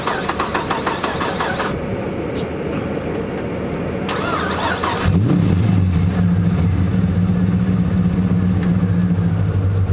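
A car engine starts partway through and settles into a steady, loud idle close by, with earlier road or air rumble before it.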